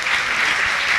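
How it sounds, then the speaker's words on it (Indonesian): A crowd at an Indonesian santri (Islamic school students) gathering claps together in a dense, even burst of applause that fills the whole moment without pause. "tepuk tangan buat kita semua."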